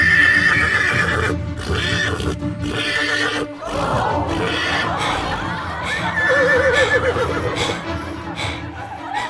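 A wild horse neighs and whinnies loudly and close as a sound effect in a horror audio drama, with several repeated calls and some hoof clatter mixed over background music.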